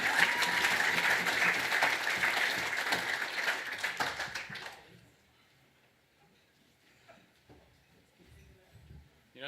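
Audience applause fills an awards dinner hall, a dense sustained clapping that fades out after about five seconds, leaving quiet room tone with faint murmurs.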